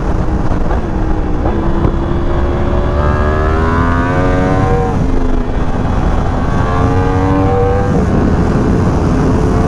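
A Yamaha R1M motorcycle riding at speed, its engine note rising and falling through steady revs, loud and close with wind rushing past throughout, no talk.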